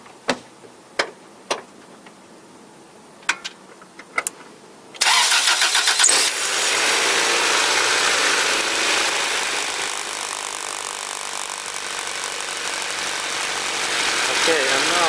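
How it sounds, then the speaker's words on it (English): A Honda Civic with a newly replaced drive belt is started after several sharp clicks, the engine catching abruptly and settling into a loud, steady idle close by, with a voice heard talking. "and then I go to start the engine"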